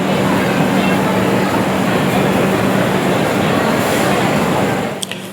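Kanchan Kanya Express at the station, with a steady broadband rumble and a low hum from the train holding loud and constant before easing off near the end, where a brief metallic squeal or clank rises.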